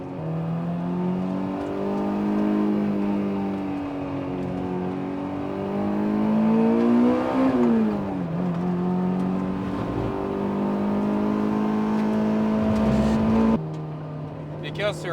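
A track-prepped Honda S2000 engine revs hard and holds a loud, sustained, rising drone while accelerating, with a brief dip and recovery midway. It drops in pitch near the end, as voices talk over it from inside the car.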